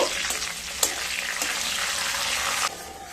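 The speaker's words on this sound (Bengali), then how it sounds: "তেলের মধ্যে দিয়ে দেব 2টো শুকনো লঙ্কা, 2টো তেজপাতা, হাফ চামচ গোটা জিরে" Dried red chillies, bay leaves, cumin seeds and whole garam masala (cardamom, cloves, cinnamon) sizzle in hot oil for moong dal with cauliflower, a steady close frying hiss with a few sharp crackles and stirring sounds, no talking.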